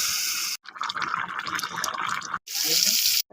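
Water poured into a pan of jackfruit curry with onion and garlic: a steady splashing pour, broken by brief pauses into separate bursts, close and fairly loud with no talk over it.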